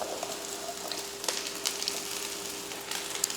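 Steady soft sizzle of white rice being added to sautéed onions in a pan over low heat, with a few light clicks and stirring taps.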